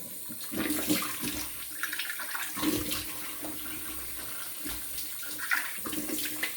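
Tap water runs into a sink for rinsing the face with cold water after a classic razor shave, a steady close splashing broken by hands scooping and splashing water, with no one speaking.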